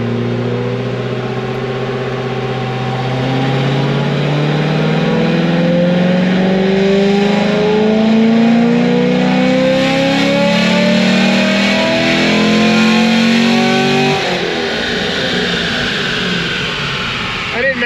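LS3 Grand Sport V8 on a dyno, sweeping up through a full pull with a steadily rising engine note that grows louder, then cuts abruptly near the end and settles back, with no talk over it.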